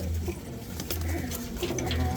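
Pigeons, including silver-coloured birds, coo in a loft during a commercial lot sale in Keraniganj, giving low, steady throaty murmurs that run continuously for the whole stretch with no talk.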